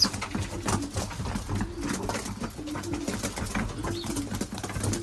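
Young racing pigeons coo in a low, steady rumble of overlapping calls that runs the whole time at close range, with soft rustling among the birds.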